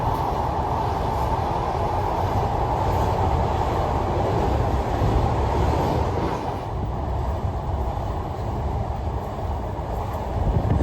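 Ruposhi Bangla Express running at close to 80 km/h across the Padma river, a steady loud roar of wheels and carriages heard from inside, continuous and even with faint rhythmic clatter.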